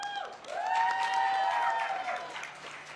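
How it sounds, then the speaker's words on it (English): An audience at a sustainable development conference applauds steadily, a soft, continuous patter of many hands with some cheering, while loud whistles or whoops rise and fall over it near the middle. "Huge round of applause for Hindu Ibrahim."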